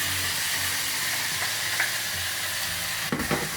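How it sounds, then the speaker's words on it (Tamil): Two tomatoes go into a pan of golden-brown fried onions, giving a steady, moderately loud sizzle and hiss with faint stirring scrapes, then a couple of sharper clatters near the end. "ஸோ இப்போ இதை நம்ம தக்காளி போடலாம், 2 தக்காளி."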